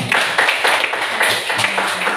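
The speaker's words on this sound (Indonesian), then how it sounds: "tepuk tangan dulu Bang Aris" Children in a classroom clapping their hands for Bang Aris during a biology lesson on bacteria: a brisk, steady run of sharp claps with a faint voice murmuring underneath.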